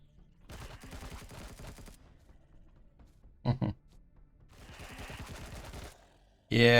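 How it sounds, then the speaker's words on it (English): Laser rifle fire in the Empyrion Reforged Eden game: rapid buzzing bursts of repeated shots, a short double burst in the middle, and a loud blast cutting in at the end, heard up close. "This is the laser rifle."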